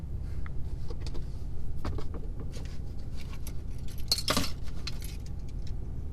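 Keys jangle and clink inside the cab of a 2019 RAM 3500 HO Cummins pickup, with scattered light metallic rattles building to one brief, louder jangle over a steady low hum.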